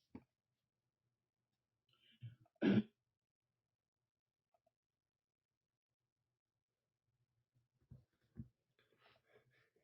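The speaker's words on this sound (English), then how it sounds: "your coughing muted the mic" One sharp, strong cough stands out, with a brief throat-clearing sound and a few quiet clicks before it and soft noises afterward in an otherwise quiet room.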